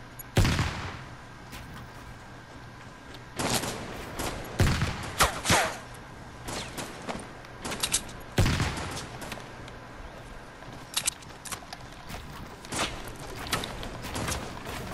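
Gunfire in a video game, a series of sharp shots in scattered bursts over a steady background, some louder and nearer than others.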